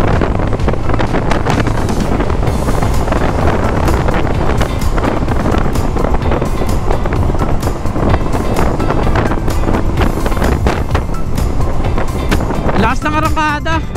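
A six-year-old motor scooter accelerates hard, its engine roaring loud and close with heavy wind buffeting throughout, the rush steady for the whole stretch.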